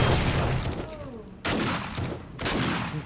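Grenade explosions and gunfire in a zombie video game: rumbling, chaotic fire with two sudden loud blasts partway through, each followed by a decaying roar, moderately loud in a busy mix.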